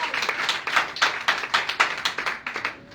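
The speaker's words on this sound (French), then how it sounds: "On applaudit." Rhythmic hand clapping from a small church worship group, steady and fairly close, keeping an even beat throughout with no voices.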